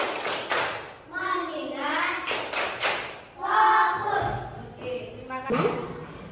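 Children play the rhythmic Indonesian clapping game tepuk fokus. Scattered hand claps and taps sit under loud, sing-song chanting voices that run through most of the stretch.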